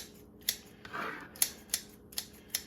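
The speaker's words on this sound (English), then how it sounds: "Use my kitchen scissors here to" Kitchen scissors snip through soft mushrooms, making several crisp, quiet clicks at an irregular pace, close up.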